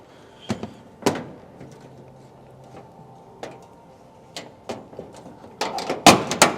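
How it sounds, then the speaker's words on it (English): Door of a custom 1936 Ford Phaeton being shut, close by. Several solid thunks and latch clicks sound amid quiet handling noises, ending in a cluster of louder clunks. "I'm gonna close this door up. Everything closes super nice."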